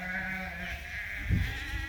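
Baby lambs on a farm bleating; a short low bleat rises near the end over a steady background hum, close by and fairly quiet.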